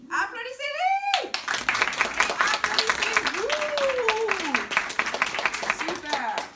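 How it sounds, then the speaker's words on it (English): A school class applauds, a dense burst of clapping that starts sharply and runs steadily, with excited voices and exclamations over it. "Applaudissez-les!"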